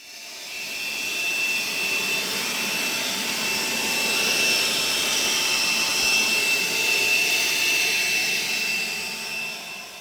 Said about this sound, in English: Before we hook up the hose to the power washer, we're going to turn it on and just clean any debris that has been sitting in there out of it.